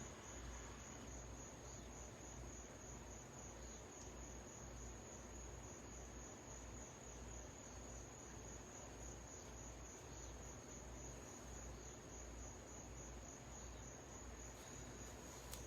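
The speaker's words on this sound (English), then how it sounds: "there's crickets tonight instead of the fountain" Crickets chirp steadily through a quiet night outdoors, a dense, continuous high trill that stays even and unbroken from start to finish with no voices.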